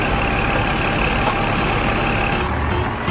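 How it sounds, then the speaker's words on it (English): A recycling truck rumbles loudly up close, its engine droning steadily with a faint repeating reversing beep over the top. "I'm the recycling truck."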